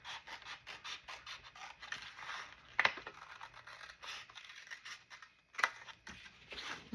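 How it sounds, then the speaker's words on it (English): Scissors cut paper ephemera for a junk journal in a run of quiet, close rustling snips, with two sharper clicks of the blades and no talking. "Let me cut this"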